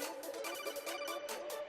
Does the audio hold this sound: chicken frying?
no